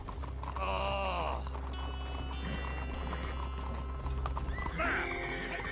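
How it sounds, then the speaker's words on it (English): Horse hooves clip-clop and a horse neighs loudly in the video game Red Dead Redemption 2, the whinnies rising over a dense, steady layer of game ambience. "Get a hold of that horse, Morgan."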